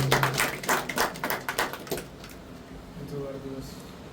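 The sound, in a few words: people clapping at a Facebook 10k followers celebration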